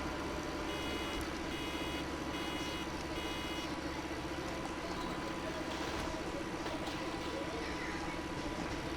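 A JCB in Farming Simulator 15 gives short bursts of reverse warning beeps, a few spaced tones in the first seconds, over a steady droning engine idle and machinery hum.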